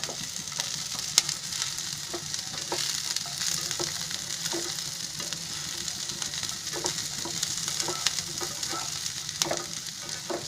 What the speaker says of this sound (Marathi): आता त्याच्यामध्ये मी अद्रकचे तुकडे केले ते टाकते भाजायला.